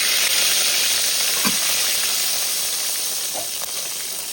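Mustard seeds and curry leaves sizzle in hot coconut oil for a Kerala cabbage thoran, a loud, continuous hissing spatter close by with a few faint pops scattered through it and no talking.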